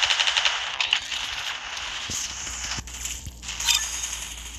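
Shotgun blasts from a video game match, a few sharp reports spaced over a few seconds amid busy in-game noise, with a rapid burst of firing at the start.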